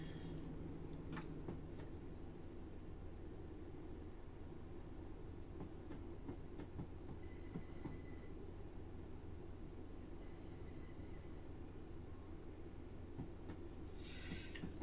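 A Class 156 diesel train running in the Train Sim 2020 game, a steady dense rumble of engine and wheels on rails lasting throughout with no pauses or voices.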